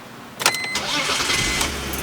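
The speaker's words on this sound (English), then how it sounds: "Will the car start?" A BMW E46 car engine cranks briefly and catches, settling into a steady rumbling idle.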